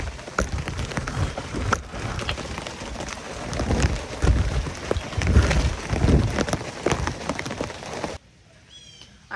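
Heavy rain pours onto garden plants with dense, loud patter and irregular heavy drops throughout, cutting off abruptly near the end.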